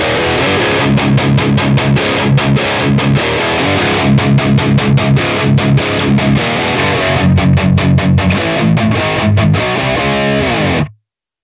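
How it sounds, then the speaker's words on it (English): Heavily distorted high-gain electric guitar plays loud, chugging chords in tight rhythmic bursts with short pauses, then cuts off abruptly. "the heavily distorted guitar tones benefited from the tonal characteristics of the larger cabs"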